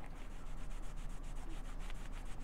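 A cloth soaked in acetone is rubbed rhythmically over the leather of a worn Gucci shoe, making a steady, close, quiet scrubbing swish in quick repeated strokes.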